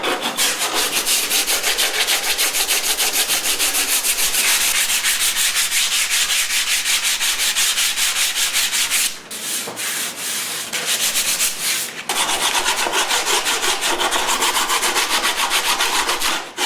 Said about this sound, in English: This stuff sands pretty easy because it's just talcum powder and resin, so it doesn't take much.